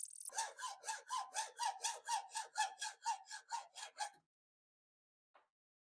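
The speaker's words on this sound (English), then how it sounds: "I'm going to use my old Miller's Falls hacksaw" An old Miller's Falls hacksaw cuts the nose off a Stanley No. 1 metal plane in about fifteen quick, even back-and-forth strokes, close and rasping, then stops, followed by one faint tap.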